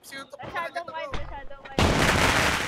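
Gunfire-like crackling bursts in the mobile battle royale game Rules of Survival, arriving suddenly as a dense, loud wash after a stretch of excited voices talking.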